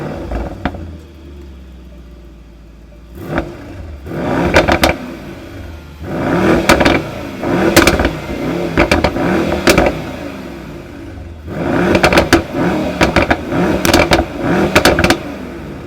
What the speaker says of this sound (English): Let's go hear the engine sound and let's take this thing for a proper rip.